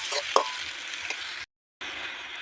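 Tarka is stirred as it fries in oil in a pan, a quiet, steady sizzle with a few scraping clinks of the spoon and a short gap of silence.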